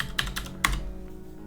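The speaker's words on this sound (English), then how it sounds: "We'll type in our password." A few quick keystrokes on a computer keyboard as a password is entered, close and crisp clicks in a short burst followed by quiet.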